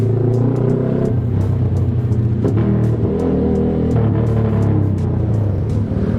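Kawasaki Z200 motorcycle with an Austin Racing exhaust, loud and close, a steady deep rumble with uneven crackling bursts as the throttle rolls off.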